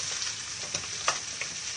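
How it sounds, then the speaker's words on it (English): Ingredients stir fried over high heat in a hot pan, a bright continuous sizzle with soft scraping clicks from stirring, close and steady with no talking. "I'm gonna get them stir fried together pretty quick."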